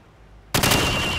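A rifle fires at a shooting range in Call of Duty 4: Modern Warfare, a sudden loud close burst breaking in after a quiet moment and ringing on to the end.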